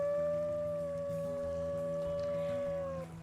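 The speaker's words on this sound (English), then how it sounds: "I actually like Sequoia howling, because it's basically like keeping all the predators away" A wolf in the video game Wolf Quest 3 gives one long, steady howl that holds a single pitch for about three seconds before fading, clear and prominent over a soft game background.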